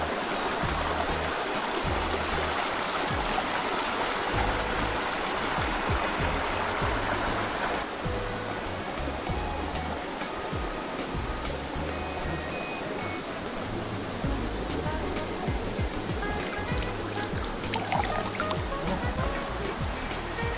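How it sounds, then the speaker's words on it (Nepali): A mountain stream on a Korean hiking trail rushes loudly and steadily for about twenty seconds, a close, unbroken babble of water with no talk over it. "ओहो यस्तो मजाको कल कल खोला बगिरह"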